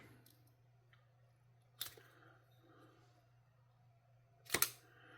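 A Cold Steel Swift III folding knife with cage bearings is taken apart, giving two sharp metallic clicks a few seconds apart over a faint steady hum in a quiet room.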